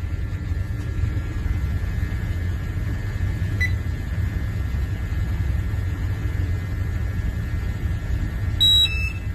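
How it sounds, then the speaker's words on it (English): A portable oxygen-level gas monitor sounds its alarm while testing a hazardous low-oxygen atmosphere, a thin steady electronic tone running under low background rumble with a brief brighter chirp near the end. "You can hear the alarm going off."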